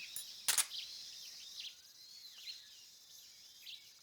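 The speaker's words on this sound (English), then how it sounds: "I need to start shooting them damn birds." Jungle birds in Metal Gear Solid 3: Snake Eater chirp faintly in short, repeated calls over a steady, insect-like hiss, with one sharp burst near the start.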